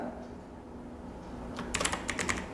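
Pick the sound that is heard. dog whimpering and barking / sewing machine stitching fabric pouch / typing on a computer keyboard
typing on a computer keyboard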